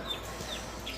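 Chickens cluck faintly at a chick and poultry sale in Salem, where white roosters are shown, with soft repeated calls over steady background noise and no talk.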